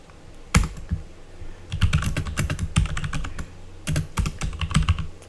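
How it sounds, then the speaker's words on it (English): Someone types on a computer keyboard, entering a telnet command. Quick bursts of close, sharp key clicks come in uneven runs with short pauses, with no voices. "this is going to be a test of my typing skills"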